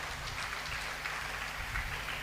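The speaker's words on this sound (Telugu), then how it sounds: "గట్టిగా చప్పట్లు కొట్టండి" A church congregation claps loudly during worship, a dense and even wash of hand claps that holds steady throughout with no voices on top.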